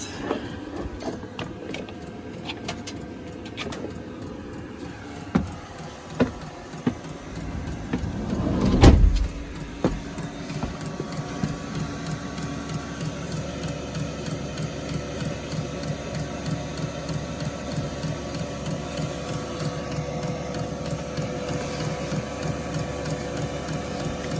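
Diesel heater running inside a parked Ford Transit van with the engine off, a steady low mechanical hum and whir that holds even throughout, with a brief louder thump partway through.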